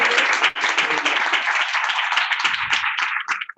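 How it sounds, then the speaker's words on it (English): A small group at an annual meeting claps for a few seconds, a close, fairly brisk patter of hands that thins and turns ragged at the end. "we can clap and they can clap online"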